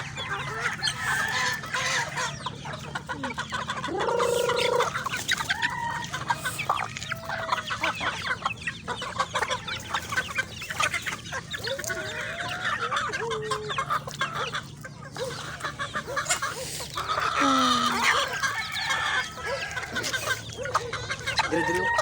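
Chickens in a provincial farmyard cluck almost continuously at moderate distance, with a rooster's crow rising briefly a couple of times amid the busy flock chatter.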